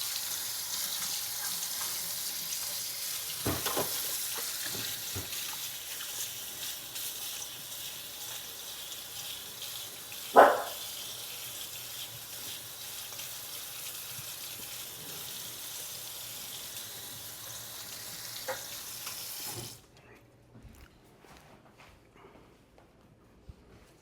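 A kitchen tap runs steadily as an item is rinsed under it. The water keeps up a constant close rush for about twenty seconds, with one sharp knock midway, then shuts off, leaving near silence.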